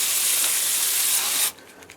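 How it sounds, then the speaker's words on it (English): A garden hose sprays water gently over bulbs outdoors, a loud, close, steady hiss that runs for about a second and a half and then stops sharply, leaving faint background sound. "I got this new hose that gives me this nice spray, which I do gently."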